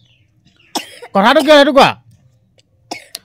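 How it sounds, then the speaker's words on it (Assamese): A boy coughs a few times, with short harsh bursts and a throaty rasp in between, close and loud, and a brief spoken word comes at the end. "আমাৰ ল'ৰাটো একদম কাহে ধৰিছে"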